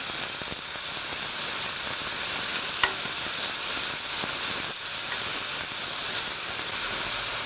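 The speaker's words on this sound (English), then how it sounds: "Just start moving it round so that you get all the beef across the pan." Beef pieces browning in a hot frying pan for a pumpkin and cashew paleo curry, sizzling loudly and steadily as they are pushed around, with a single sharp scrape partway through.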